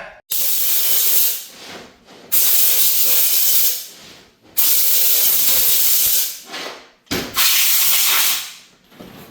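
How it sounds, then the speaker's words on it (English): Lubricant sprayed onto the gears of a 6R80 automatic transmission during assembly, heard as several loud hissing bursts of a few seconds each, separated by brief pauses, close up with no talking. "I like how you squirt the gears"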